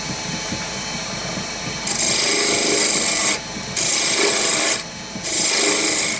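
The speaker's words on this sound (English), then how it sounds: "I'm using my spindle gouge for the pen set for this" A spindle gouge cuts a wooden chess king spinning on a lathe, making loud, close scraping rasps in three long bursts that pause and return, with the lathe hum running underneath and no talking.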